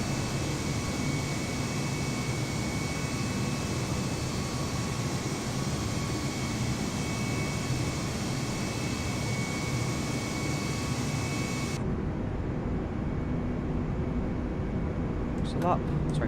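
Twin jet engines of an Airbus A320neo at climb power in Microsoft Flight Simulator 2020, a steady broadband roar with a whine running throughout, then cutting to a quieter cabin-like hum near the end.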